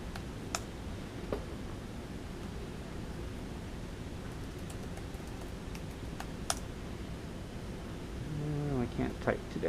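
Light, scattered keystrokes on a computer keyboard in a quiet chemistry lab, a few sharp isolated taps over a steady background hiss, with a brief burst of speech near the end.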